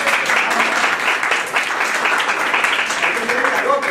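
A conference audience in a Spanish-language event hall breaks into loud, sustained applause and cheering after the host asks for more enthusiasm, a thick continuous wash of clapping with voices mixed in.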